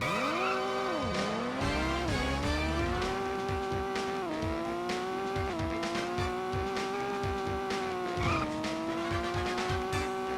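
Engines of race cars in the PlayStation budget racing game Simple 1500 The Race whine continuously and climb in pitch through repeated gear shifts, with tire squeals and skids mixed in and no voices.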